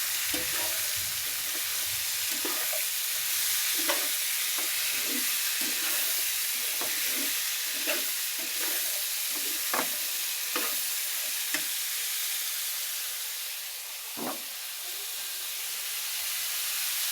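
Onions and sweet pumpkin fry in a pan with a steady sizzle and hiss, broken by repeated scraping stirs every second or so, close and alone with no talking.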